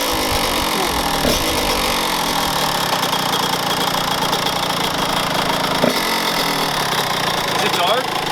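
A 2018 Kawasaki KX85 dirt bike with fresh muffler packing and a freshly cleaned carburetor idles steadily and close by, a constant engine drone with a few faint clicks and knocks.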